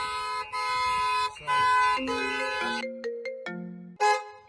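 A 1986 Ford Sierra RS Cosworth's alarm horn sounds in repeated blasts, then the alarm system's phone call breaks into an electronic ringtone melody of stepped beeping tones, loud and close.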